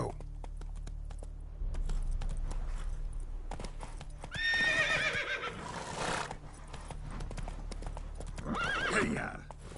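Roach, the horse in The Witcher 3, gallops with a rapid, continuous clip-clop of hooves and gives two loud whinnies midway and near the end, with game background sounds around.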